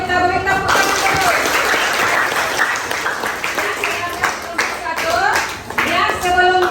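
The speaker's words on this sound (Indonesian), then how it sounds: "Kita beri tepuk tangan dulu." A classroom of students applauds the first presenting group during a teaching assessment, with loud, close clapping that swells and dips while voices chatter and call out over it.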